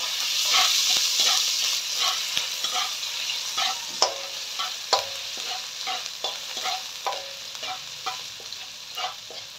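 Ginger sizzles in a heated pan for dinuguan, a loud frying hiss that gradually settles while a utensil stirs and taps in a loose rhythm of clicks and scrapes.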